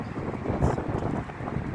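Steady roaring wind buffets the microphone outdoors, a continuous low rumble with a brief stronger gust midway.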